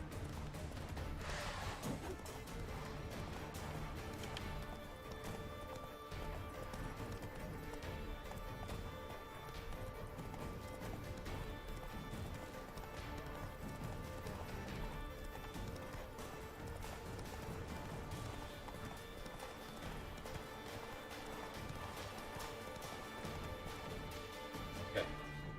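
Horse hooves gallop continuously in a video game, a fairly faint and steady clip-clop rhythm that runs throughout with other game sounds mixed in.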